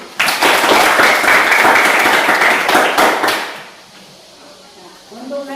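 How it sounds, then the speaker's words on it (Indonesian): Classroom applause from students, loud close clapping for about three seconds that stops abruptly, followed by quiet and a voice beginning to speak. "Ya, tepuk tangan dulu."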